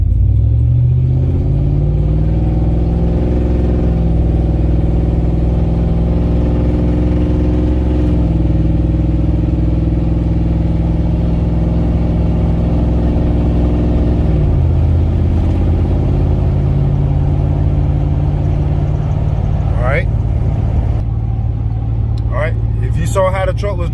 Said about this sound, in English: So this is how it's shifting now.